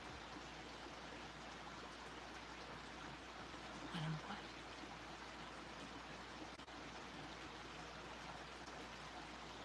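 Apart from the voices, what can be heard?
mountain creek water flowing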